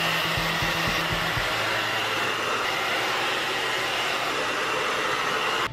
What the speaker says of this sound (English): All right, so I just used that hair dryer.